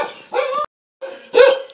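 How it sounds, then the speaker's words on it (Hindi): A tied-up dog barks loudly and close by in two separate bursts of sharp, repeated barks, with a short silence between them. "ये भौंक ही रहा है"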